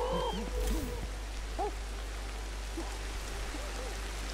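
Rain falls steadily outdoors as a constant hiss of drops over a low background hum, with a few faint bird-like calls in the first seconds.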